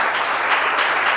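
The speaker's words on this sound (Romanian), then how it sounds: "Aplauze, vă rog!" Studio audience applause on a Romanian television entertainment show, a dense burst of clapping that fills the room evenly and stays loud throughout its brief duration.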